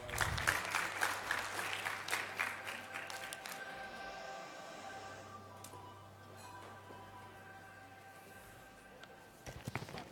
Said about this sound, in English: A round of applause, please, to Mr. Richard Villacorte.